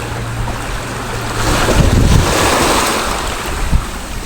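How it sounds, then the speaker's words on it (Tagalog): Rough sea on Samal Island, Davao, surges against a beach in loud, rolling waves under heavy wind buffeting the microphone, with one swell building to a peak midway and no voices. "Walang naliligo dito ngayon sa beach kasi malikot ang dagat."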